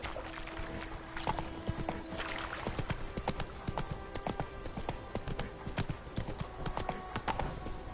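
Roach, a horse in The Witcher 3 on PS5, trots with continuous rhythmic clip-clop hooves, moderately close, over quiet ambient game sound with a brief voice.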